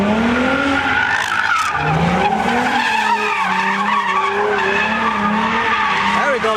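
Ford Mustang skidding at a car meet, tires squealing in long wavering pitched howls over continuous engine roar for the whole stretch, loud and close, with crowd voices mixed in.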